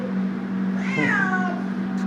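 A single drawn-out cat meow, close and clear, rising then falling, against a low steady hum inside a plane cabin.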